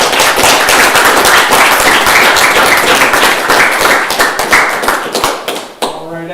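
Loud, dense applause from a full audience at an evening snowpack speaker event in the Rossland Range, steady clapping for about six seconds before tapering off abruptly near the end.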